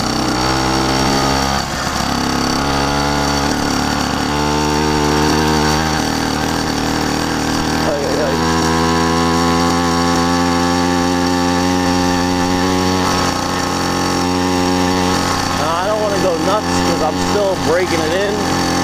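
A Yamaha YD100 two-stroke motorcycle engine, freshly rebuilt with its cylinder top cut off and a separate head fitted, runs steadily during break-in, a loud continuous buzzing drone with a few revs rising and falling near the end.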